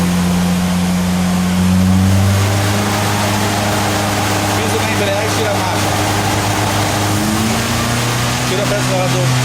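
VW Gol 1.0 16v turbo engine running with a wheel lifted off the ground, a steady loud drone with a tone that shifts in pitch, while people talk over it.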